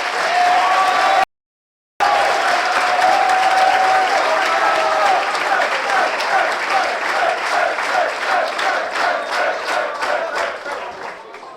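A crowd at a 2015 assembly debate applauds both candidates, dense loud clapping with scattered cheers and voices, holding steady after a short gap and then thinning into more distinct claps as it fades toward the end.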